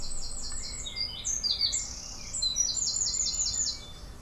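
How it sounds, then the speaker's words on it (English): Small birds chatter in a rapid, overlapping run of high, bright chirps and twitters, fairly close and continuous over a quiet background. "Or did you hear the bird chatter?"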